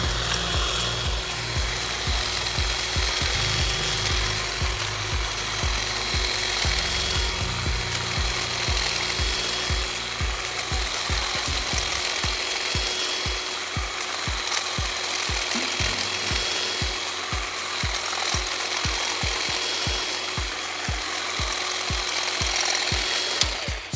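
A Stihl HSA 26 cordless hedge trimmer cuts a taxus shrub, its steady, fairly close motor buzz overlaid with rapid, even chattering of the blades through the foliage for the whole stretch, with no talking.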